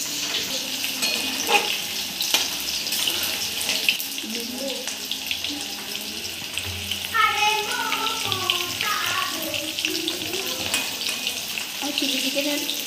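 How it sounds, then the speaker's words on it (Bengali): Chicken pieces for homemade chilli chicken fry in hot oil in a kadai and are turned to cook the other side, giving a steady, close sizzle with occasional clatter throughout. "এখন উল্টে দিচ্ছি, উল্টো পিঠটা ভেজে নিচ্ছি আর এক দিকটা ভেজে নিচ্ছি।"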